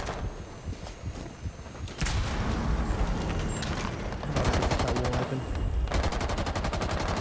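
Rapid gunfire bursts in Rainbow Six Siege, with the M509 shotgun among the weapons, crack through a dense, busy mix of footsteps and thuds, growing louder and more continuous toward the end.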